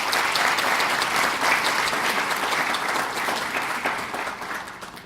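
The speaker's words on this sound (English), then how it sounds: "Let's have another round of applause for Nadia." A roomful of people applauds at a youth investor panel, steady dense clapping that gradually thins and fades over about five seconds.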